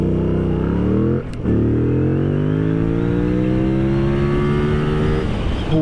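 A 2025 Yamaha MT-07 motorcycle accelerating hard through the gears. The engine roars loud and close, rising in pitch, cuts briefly at a gear change, then climbs steadily again.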